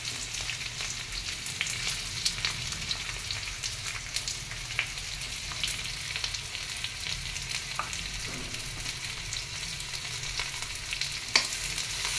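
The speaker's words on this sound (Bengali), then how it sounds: "এখন তেলের মধ্যে একটু গোলমরিচ ফোড়ন দিয়ে, কাঁচা লঙ্কা দিয়ে, পেঁয়াজ কুচি দিয়ে দিচ্ছি।" Black pepper, green chilli and chopped onion fry in hot oil, giving a steady, close, dense sizzle that runs the whole time with faint clicks from stirring and a sharp tap near the end.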